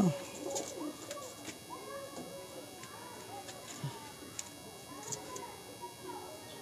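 Soft, low cooing from several Andhra-breed pigeons close by, repeated in irregular bursts over a quiet background.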